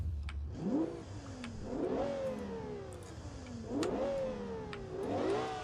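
Simulated V12 car engine in the BeamNG driving game, tuned to resemble a Lamborghini, revving hard four times in quick succession, each rise in pitch followed by a falling note as the throttle lifts, loud and close with no talk.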